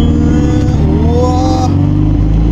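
A Fiat 126p maluch engine revs hard while driving, a loud, close, buzzy drone with rising pitch mid-way, a brief surge and slight drop toward the end.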